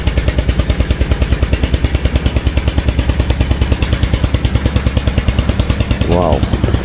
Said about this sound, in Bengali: এই যে ট্রলারগুলো যাচ্ছে